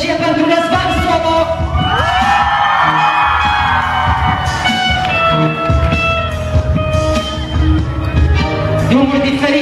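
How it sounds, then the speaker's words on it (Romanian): A loud crowd at a school freshman ball in Vaslui whoops, cheers and shouts continuously, with voices rising into sustained yells that fill the room throughout. "Gălăgie pentru Răzvan Slobo!"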